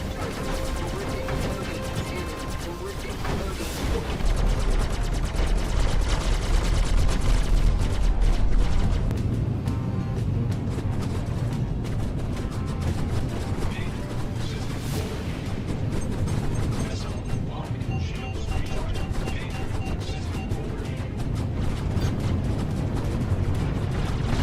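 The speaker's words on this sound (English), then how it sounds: "Fired a torpedo." A ship fires a torpedo in a naval combat video game: a heavy, rumbling launch boom swelling early, then a long, dense mechanical roar and crashing that rolls on loud and steady.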